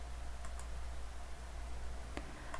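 Sparse, light mouse clicks and keyboard taps come from a computer as a title is added in a web design editor, heard close and quiet over a steady low hum.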